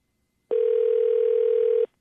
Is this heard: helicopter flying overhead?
no